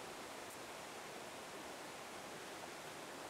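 Waterfall cascades at the lower falls beside a gallery forest along a river, a steady broadband rush of falling water heard alone and evenly throughout.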